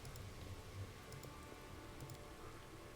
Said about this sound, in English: this is some thick-ass rain